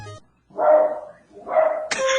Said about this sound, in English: Someone's got a dog. What are those dogs doing?